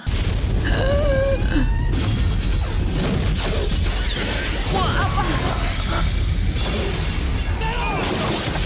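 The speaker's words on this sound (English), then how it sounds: "respect for these explosions though" Loud booming explosions and crashing debris from the fire film Backdraft fill a dense, continuous roar, with excited voices talking over the chaos.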